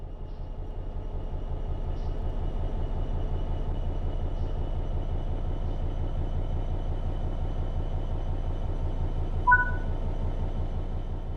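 An electric train in Train Sim World 3 pulls away under throttle, its steady traction-motor hum and rumble holding evenly throughout, with one brief tonal chirp near the end and no talk.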